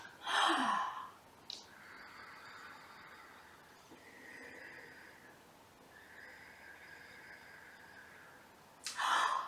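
A deep, slow breath drawn in during qi gong practice, a long airy inhale bracketed by sharper breaths at the start and end, close and alone without speech.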